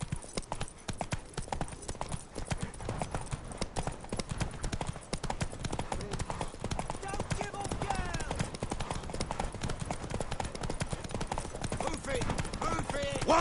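Horse hooves clop steadily in Witcher 3, a rapid rhythm running through the whole stretch. The hooves sit inside a dense game mix with voices talking over them.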